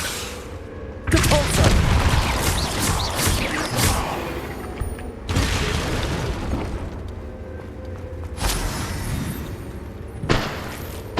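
Repeated Confringo fire-blast spell explosions in Hogwarts Legacy, loud booming bursts arriving in several separate waves with crackling tails, a voice shouting the spell name between them.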